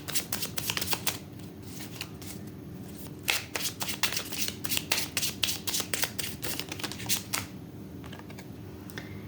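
Tarot cards being shuffled by hand in a burst of rapid, crisp riffling flutters and slaps, fairly close and steady, pausing briefly before a final run of shuffles and fading to quiet.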